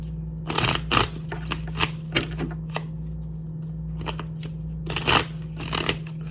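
Tarot cards being shuffled by hand, a series of crisp riffling bursts in irregular clusters, close and fairly loud over a steady low hum.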